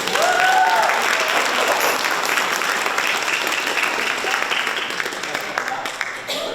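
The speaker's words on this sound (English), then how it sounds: "How about another round of applause for our drum set person" Sustained applause from an audience at a community band concert during a church fall festival, loud at first and gradually thinning out over several seconds.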